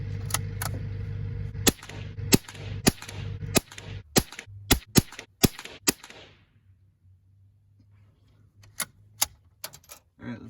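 Sharp, distant-sounding .22 Long Rifle shots fired at a 200-yard target, a steady string of single cracks spaced about half a second to a second apart, then a pause before a few more shots.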